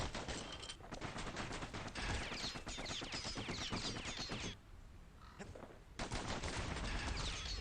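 Rapid gunfire from the video game Bastion, dense bursts of repeated shots crackling almost continuously, with a brief lull partway through before the volley resumes loud and close.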